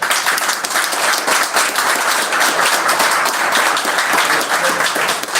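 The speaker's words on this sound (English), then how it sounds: "so let's give her applause" An audience at a mayoral debate in Brunswick, Georgia, gives loud, sustained applause, a dense wash of clapping that runs steadily throughout.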